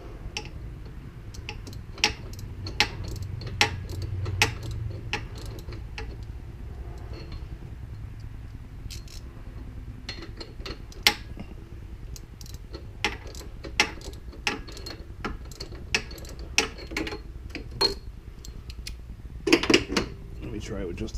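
A ratchet wrench clicks in short irregular runs while working an oxygen sensor loose on a 1992 Eagle Talon TSi AWD, with sharp close ticks that stop and restart over a low background rumble.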